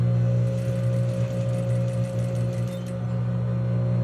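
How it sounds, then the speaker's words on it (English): A sewing machine steadily stitches fabric with a constant low motor hum and a faint fast needle rhythm, near and uninterrupted, with no voices. "Just sew it slowly and turn."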